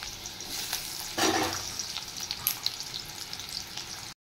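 Chopped onions dropped into hot oil in a wok, a sudden burst of sizzling that settles into steady close frying with light stirring scrapes, no talking.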